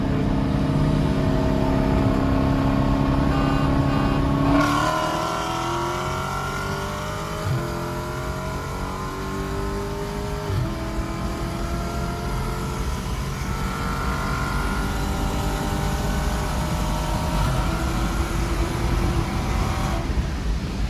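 A Dodge Challenger ScatPack and a tuned Audi S3 race on a cold day, engines roaring loud and close as revs climb and shift through gears in rising sweeps, then ease off and build again.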